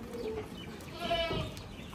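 Hungry goats brought from Rajasthan to a farm in Bhiwandi near Mumbai let out a bleat or two at moderate distance over a steady, noisy farmyard background.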